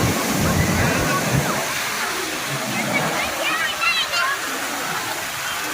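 Sea water at Ganpatipule beach in Maharashtra, India, rushes and splashes continuously nearby, a loud broad wash of sloshing surf with a few sharper splashes.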